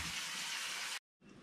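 Steady rush of water poured into a pot of squirrel meat for dumplings, a continuous gush that stops abruptly for a moment and then resumes, close and fairly quiet.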